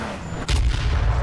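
A shotgun blast booms in the online battle royale game H1Z1, one sharp loud shot followed by a heavy low rumbling tail.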